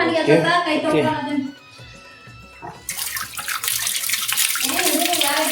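Tap water running over hands being washed at a sink before cooking, a steady rush of water starting partway through, with voices talking over it.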